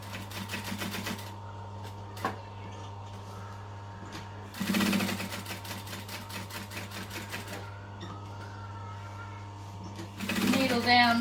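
Domestic sewing machine stitching a bowl project with a long stitch length, a fast rattling mechanical run in short bursts over a steady motor hum, with a voice talking between passes.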